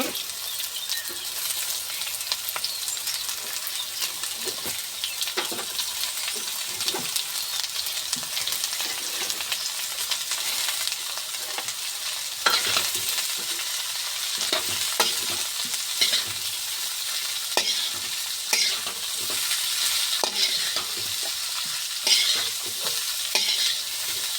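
Chopped carrot frying in a pan for homemade Chinese-style vegetables, a steady bright sizzle with repeated scraping stir strokes running throughout, close and continuous with no talking.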